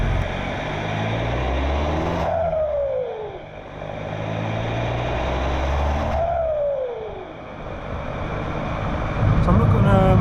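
Volkswagen Golf Mk5 PD150 diesel with a new exhaust, driven from inside the cabin. The engine drones loudly and swells under load, and a rising turbo whistle-whoosh is heard twice during gear changes.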